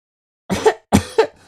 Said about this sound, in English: It's just a little tiny cough.